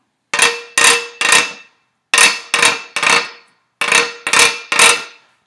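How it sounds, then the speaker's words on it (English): A hand percussion instrument is scraped in time with cha-cha-cha music, in three groups of three short, sharp rasping strokes, each group separated by a brief pause, loud and close with nothing else heard. "if you want to, you can do the scraping with me"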